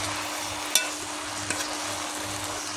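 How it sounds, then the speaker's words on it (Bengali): Jute leaves fry in a pan and are stirred, giving a steady soft sizzle with a sharp utensil scrape near the start and a lighter knock about halfway through. No one speaks. "তো ভালো করে আমি নেড়ে দেবো আবারও।"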